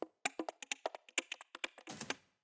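Dry noise-glitch percussion without vocoder processing, for a minimal deep tech track: a rapid irregular run of short clicky ticks that ends in a brief hissy burst, faint and alone.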